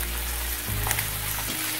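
Beef seekh kababs sizzle and fry in a pan as a steady, close hiss that runs unbroken through the whole moment.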